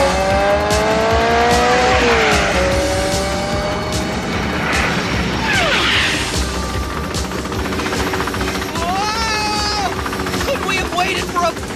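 A car speeds wildly through city streets in a RoboCop cartoon, engine roaring loudly and continuously with tire squeals and pitch sweeps, mixed with dense action sound effects and music.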